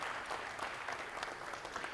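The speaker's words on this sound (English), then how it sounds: "little round of applause for the guys and girls" A group applauds soccer players after a ball mastery warm-up session, with steady, even clapping from a modest crowd throughout.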